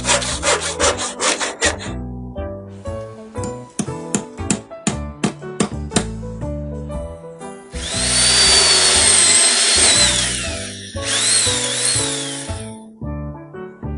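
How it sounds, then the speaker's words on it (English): Hand tools are heard in turn on a hardware-store theme: a saw cuts wood with rhythmic strokes, then hammer blows land on nails in sharp repeated knocks, then an electric drill gives a loud whirring burst that stops and starts again. "A saw, A hammer and some nails. And an electric drill to drill some holes."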